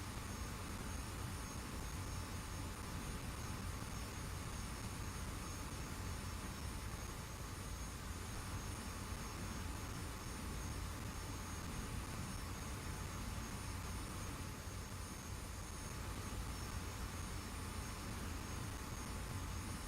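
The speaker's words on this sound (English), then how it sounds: "That's interesting that I could hear the engines of the F5." Steady, continuous jet engine roar of an F-5 fighter in the DCS flight simulator game, a dense broadband rush with a faint high whine that holds at an even level throughout, with no talking.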